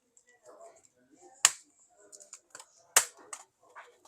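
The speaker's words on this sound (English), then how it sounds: "You try to remove the keyboard." Plastic clicks and snaps as the keyboard of an HP EliteBook 820 G3 laptop is pried up: two sharp, loud cracks about a second and a half apart, with softer ticks and faint murmured talk between them.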